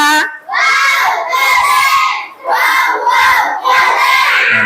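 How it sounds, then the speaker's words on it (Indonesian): A classroom group cheers loudly for a group performance during an Islamic religious education teacher training session, shouting in four rhythmic, chant-like bursts with short gaps between them and light clapping underneath. "Tepuk tangan untuk kelompok 3."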